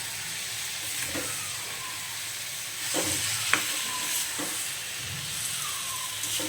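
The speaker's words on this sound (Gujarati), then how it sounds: "આપણે વઘાર કરતા હોય ત્યારે ગેસની ફ્લેમ ધીમી રાખવાની છે" Mustard seeds and cumin sizzle in hot oil on a low gas flame for a sev tameta shaak, a steady, close crackling hiss broken by a few light scrapes and clicks of stirring.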